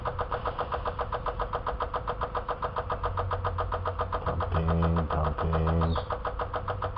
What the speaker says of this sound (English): Pumping up petrol.